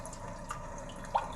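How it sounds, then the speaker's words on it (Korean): Rainy-day nature soundscape from a Kia K7's infotainment system, playing as soft, steady rain hiss with a few distinct water drips standing out, faint and continuous with no voices. "비 오는 하루"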